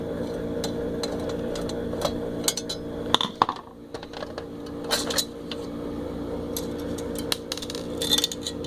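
Small steel screws from a VCR teardown drop onto a pile, giving scattered light metallic clinks and taps, close by over a steady background hum.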